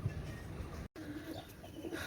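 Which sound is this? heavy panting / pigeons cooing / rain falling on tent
pigeons cooing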